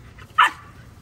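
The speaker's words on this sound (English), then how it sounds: "The puppies, y'all." A single short, sharp bark from a puppy, close and clear, rising suddenly out of quiet background and fading quickly.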